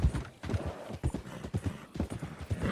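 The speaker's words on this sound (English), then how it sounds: "I'll leave your horse here." Horse in Red Dead Redemption 2 clip-clopping in a steady, close rhythm of hoof strikes, with a whinny mixed in, loud and clear without talk.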